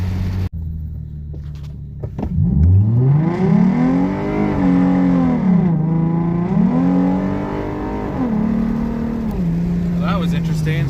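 A tuned 2013-14 Ford Mustang 3.7 V6 with bolt-ons and 3.73 gears pulls hard under full automatic shifting, its engine note rising and dropping through several gear changes, loud and close, with a voice heard briefly.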